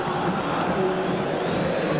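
A large football crowd in the stands at Beira-Rio stadium roars and cheers as a dense, steady wash of voices with no clear breaks.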